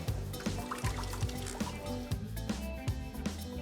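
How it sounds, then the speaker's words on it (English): Faint dripping and trickling as water is wrung out of a cloth before persimmon dyeing, with soft squishing pulses repeating over a quiet background. "Step 2, we have to squeeze out all the water."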